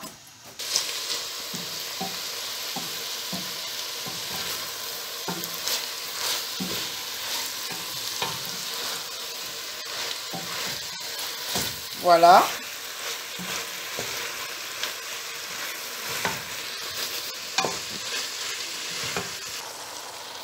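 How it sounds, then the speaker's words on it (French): Cod, shrimp and vegetables cook in a covered pan on low heat, giving a continuous soft sizzle with occasional stirring scrapes and one brief louder clatter; a voice speaks briefly. "on ferme et on laisse cuire à feu doux 10 minutes"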